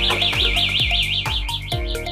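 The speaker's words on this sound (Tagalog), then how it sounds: "Kaya naka-anti-theft alarm ka, no?" Anti-theft alarm on an Atlas 2.0 e-bike, a loud, close, warbling siren tone that rises and falls quickly, cut through by repeated pulsing beeps.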